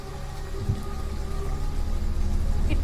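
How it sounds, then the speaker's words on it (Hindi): Heavy rain pours steadily in a dense, loud wash of noise that builds slightly over a few seconds, with a faint low rumble beneath and no voices. "इतनी बारिश हो रही है"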